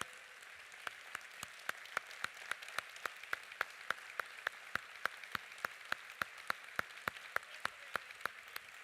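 Applause for three ministers at the end of a social enterprise conference session, heard as faint, evenly spaced claps, about three a second, tapping out a steady rhythm for nearly nine seconds in a quiet hall.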